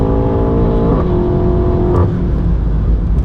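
A 700+ hp BMW M8 Competition engine drones loudly and steadily at the Nürburgring, its pitch dropping and settling as it moves through gear changes, with no one speaking.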